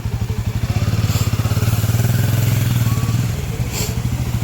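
A motorcycle turning around, its engine thumping in a steady, close, loud putter that swells mid-turn and eases off, with faint talk in the background.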